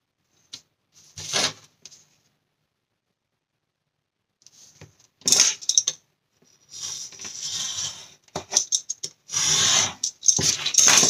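Paper scissors or a craft cutter snipping through card stock while making a Christmas pop-up scene card, heard as short close crisp bursts of cutting and rustling, quiet at first and then several rapid cuts in succession, with no talk.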